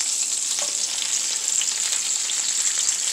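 Chicken wings sizzle in a pan on a stovetop, a dense, even crackle of hot oil that holds steady from start to finish with no talking.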